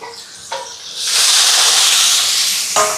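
Chicken pieces drop into a pan of sizzling onions and green chillies, setting off a loud, steady hissing fry that swells after a brief quieter start and holds, with a soft clink near the end.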